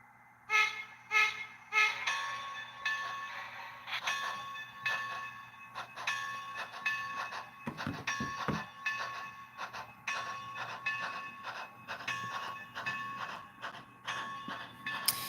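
A DCC-controlled model train runs on a home layout, its engine sound effects playing steadily with repeated horn-like toots and clattering, fairly close and at moderate volume, with no one talking.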